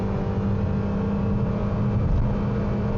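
A 2017 Honda HR-V Touring accelerates at full throttle in drive, its engine giving a steady, loud, dense drone with road and wind noise, heard from inside the cabin without any change in pitch.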